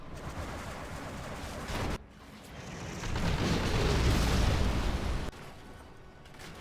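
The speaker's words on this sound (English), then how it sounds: "Artillery coming in for ExCaL" Artillery barrage in the Dual Armies strategy game: a sustained rumbling roll of distant booms that swells for a few seconds, framed by quieter battle ambience before and after.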